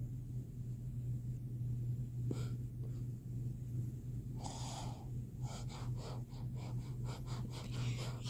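Breathy gusts of air hit a microphone close up during a Subway Surfers gameplay session, several puffs in a row against a steady low hum.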